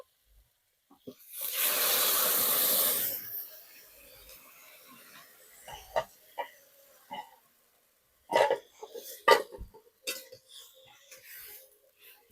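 A sudden loud rush of hissing steam as water hits frying potatoes in a hot pan, fading after a few seconds, followed by scattered clinks and soft kitchen noises.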